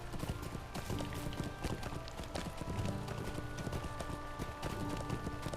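Horse hooves pound out a steady, rhythmic clip-clop while riding in the Lord of the Rings Online video game, continuous and close alongside tonal game ambience.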